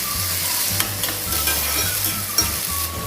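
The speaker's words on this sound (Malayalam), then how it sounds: "ചീനച്ചട്ടിയിൽ ചൂടായ വെളിച്ചെണ്ണയിലേക്ക് ഈ മുറിച്ച് വെച്ച ഇഞ്ചി ഇട്ട് കൊടുക്കാം." Ginger pieces fry in hot coconut oil in a pan, giving a steady, close crackling sizzle with a low background hum and a few light clinks.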